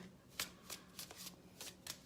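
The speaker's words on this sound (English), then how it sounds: "I'm just going to shuffle a little bit more here" A deck of reading cards is shuffled by hand indoors, giving about six soft, quick riffling bursts in a steady rhythm, quiet and close with no talking.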